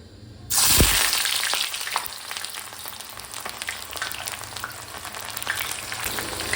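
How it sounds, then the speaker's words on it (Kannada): Onions drop into hot coconut oil for veg biryani, setting off a sudden loud sizzle that settles into steady, close frying with occasional stirring scrapes. "ಇದೇ ಎಣ್ಣೆಗೆ ನಾವು ಆನಿಯನ್ ಫ್ರೈ ಮಾಡುವ"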